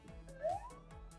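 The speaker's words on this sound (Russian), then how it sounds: "Слышите сирену?" A fire engine's wailing siren rises and falls in pitch, moderately loud against a low rumbling background.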